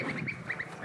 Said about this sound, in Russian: Не пугай уточек.